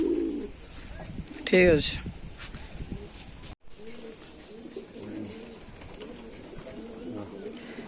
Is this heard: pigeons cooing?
yes